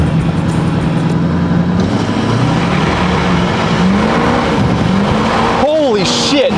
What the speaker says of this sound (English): So here we go, two-wheel drive at 0 to 60.